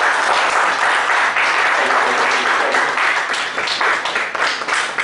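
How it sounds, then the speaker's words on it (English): Loud, dense applause from a large audience at a conference session, steady and sustained throughout. "Janardhan Hebbar, we will give a big applause for him, please."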